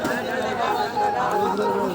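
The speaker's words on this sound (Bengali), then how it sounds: "দেখেন মানুষ আর মানুষ চতুর্দিকে" A dense crowd chatters at a rural village bull-fight fair, many overlapping voices forming a continuous close murmur with no single sound standing out.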